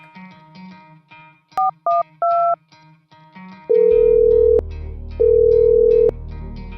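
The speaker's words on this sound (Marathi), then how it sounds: "तिने लगेच सत्यजितला फोन लावला" Three short touch-tone beeps from a phone keypad over soft background music, followed by two long ringback tones.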